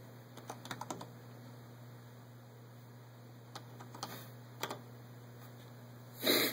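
Quiet keystrokes on a computer keyboard, a few scattered taps in small bursts with pauses between, over a steady electrical hum and a brief louder rustle at the end.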